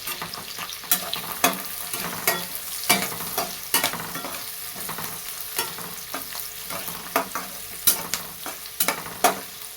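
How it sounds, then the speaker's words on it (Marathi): Onion fries in a pan alongside green chillies for a green moth bean bhaji, a close sizzle punctuated by frequent rhythmic spatula scrapes and taps as it is stirred. "आता कांदा पण टाकून घेते तळते"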